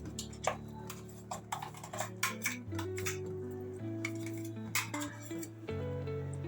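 Tomato, green chili and coconut chutney is spooned into a bowl, with light metallic clinks and scrapes of utensil on dish over soft background music.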